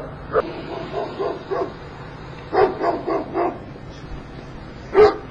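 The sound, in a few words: dog barking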